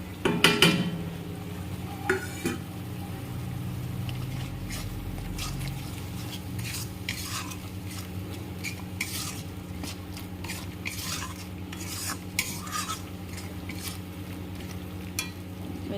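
Spice powders (garam masala, chilli, cumin, coriander and turmeric) frying in a pan for a homemade yogurt catla fish curry, a low, steady sizzle under a long run of quick spatula scrapes and taps against the metal, without speech.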